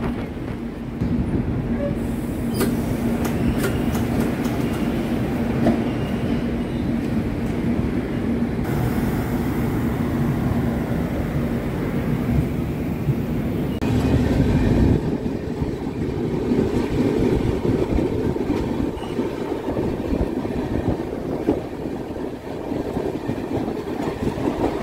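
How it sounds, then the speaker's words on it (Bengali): A passenger train pulls out from platform 3 at Dhanbad Junction, a steady, fairly loud rumble of engine and wheels rolling on continuously without pause. "ট্রেন আমাদের ছেড়ে দিল ধানবাদ জাংশনের 3 নম্বর প্ল্যাটফর্ম থেকে"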